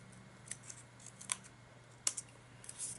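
Scissors cut through folded paper for an autumn flower folio, a few separate crisp snips spaced irregularly, close and quiet against a faint steady hum.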